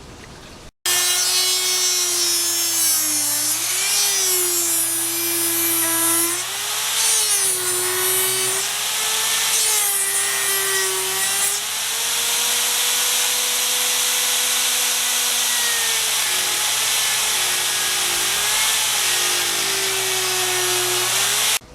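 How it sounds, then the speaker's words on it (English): A Dremel rotary tool cuts through a steel-belted motorcycle tire, giving a loud, steady high-pitched whine with a grinding edge that wavers in pitch as the cutter loads and frees, running continuously and close up with no talk. "I've cut the whole thing with the Dremel tool"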